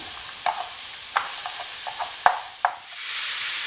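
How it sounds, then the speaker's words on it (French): Meat and vegetables browning in a pan over medium heat, a steady sizzle broken by scattered clicks as the ingredients are stirred. "Je laisse revenir le tout à température moyenne pendant 5 minutes, le temps d'obtenir une petite coloration."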